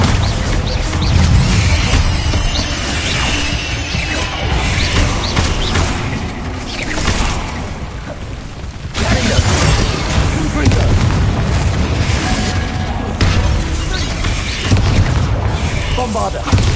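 Repeated Bombarda blasting-spell explosions in the Hogwarts Legacy video game, deep loud booms layered over a dense, continuous game soundscape, with a brief lull midway before the blasts resume.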